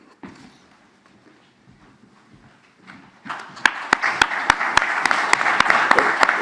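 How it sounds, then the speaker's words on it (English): Audience at an AI panel discussion in a university hall breaking into applause, which starts loud and steady after a few seconds of quiet room murmur, with some sharp claps standing out. "that's very generous to clap before you've heard the first words"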